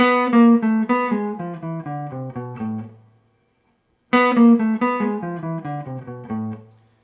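A short melodic phrase in harmonic minor on piano, descending notes played twice in a row with a pause between, ringing clearly with no talking.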